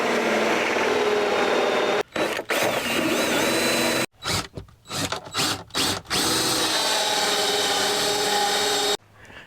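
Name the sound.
power drill drilling through metal for solar panel install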